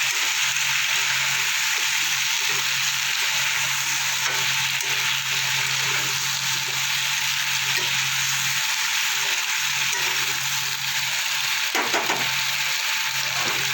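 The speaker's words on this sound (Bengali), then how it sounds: "ফুলকপি আলুটা আমার অনেকটাই ভাজা হয়ে গেছে" Cauliflower and potatoes fry in oil in a pan, giving a loud, unbroken sizzle with rustling stirring movements and a brief clatter near the end, while a faint voice murmurs underneath.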